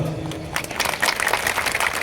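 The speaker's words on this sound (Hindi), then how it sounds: "जोरदार तालियों से स्वागत करेंगे, जोरदार तालियों से।" Audience applause swells at a public gathering after an oath is read aloud, a dense wash of clapping from many hands that grows fuller and holds steady over a brief stretch.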